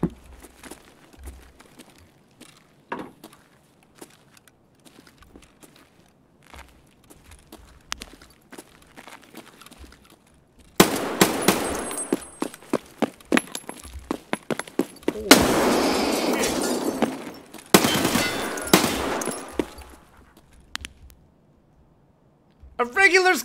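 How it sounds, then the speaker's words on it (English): A scav's thrown frag grenade detonates amid Escape from Tarkov combat, a loud blast with rolling debris following earlier quieter scuffling and distant shots, several sharp gunshot bursts around it. "A regular scav throwing a frag."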